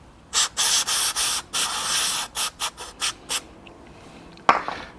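Chain wax is rubbed onto a Royal Enfield 350 motorcycle chain in a run of close, soft scraping strokes, first longer smears and then shorter quicker ones, ending with a small knock.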